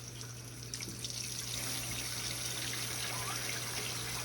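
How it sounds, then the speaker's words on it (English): Water running steadily from a tap into a brisket roasting pan, a continuous splashing hiss that holds at an even, close level for a few seconds, with no talk. "And I'm gonna fill it up with water."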